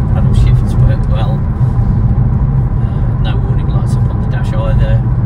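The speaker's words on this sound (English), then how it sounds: "I'm just going to get a little road test just to see how it drives" A 2012 Skoda Octavia vRS with a 2.0 TFSI engine and DSG gearbox on a road test, giving a steady loud low engine and road drone from inside the cabin, continuous with faint higher clicks and rattles over it.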